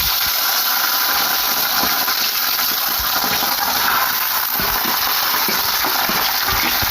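Steady dense sizzling and crackling of potato pieces frying in hot oil, loud and continuous throughout, with occasional small pops and clinks.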